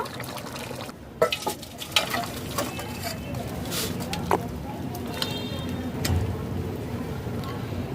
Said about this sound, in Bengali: নাড়াচাড়া করে নেব নামিয়ে নেব